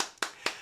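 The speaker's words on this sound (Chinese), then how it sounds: "掌声！" Audience applause in a table tennis workshop setting, a few brief sharp claps heard in quick succession.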